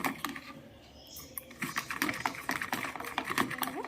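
Eggs beaten with onion, chili and salt, giving quick, irregular close-up clicks and taps that quicken into a steady clatter after a quieter start.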